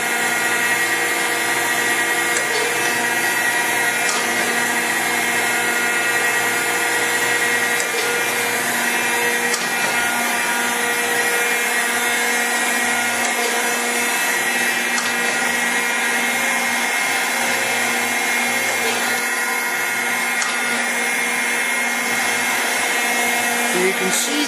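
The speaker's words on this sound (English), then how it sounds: "It's a 10 horsepower main drive motor." A Rockford 24-inch hydraulic shaper with a 10 horsepower main drive motor runs steadily, giving a loud, constant mechanical drone and hum for the whole stretch with faint periodic ticks, close and unbroken.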